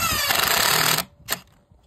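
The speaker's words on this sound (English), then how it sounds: "Don't overdo it with your impact. Otherwise you'll strip it." Impact driver sending a Spax wafer-head T20 screw, 1¼ inches, into a Trex composite deck board: a loud, steady buzzing hammer rattle for about a second, cutting off abruptly, then one short follow-up burst.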